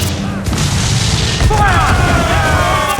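Ship cannons boom during a naval battle in Assassin's Creed IV Black Flag, heavy thuds piling up over wind and sea noise, with shouted crew voices underneath.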